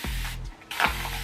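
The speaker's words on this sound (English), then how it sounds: "Hold on, let me spray it for y'all." A hand mist water bottle gives one short, airy hiss as it sprays onto hair, framed by the ratcheting clicks of its trigger pump, close up.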